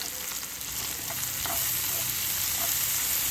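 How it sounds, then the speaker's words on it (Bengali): Chopped onion, capsicum and green chili sauté in a pan with a bright, even sizzle, stirred now and then, close and continuous throughout. "পেঁয়াজ কুচি, ক্যাপসিকাম কুচি, কাঁচা লঙ্কা কুচি অল্প একটুখানি সটে করে নেব"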